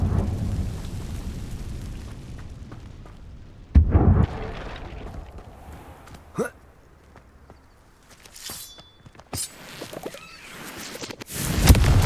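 Confringo fire spell blasts in Hogwarts Legacy, scattered sharp booms and crackling bursts amid rumbling ambience, with a loud explosive hit near the end and game voices between them.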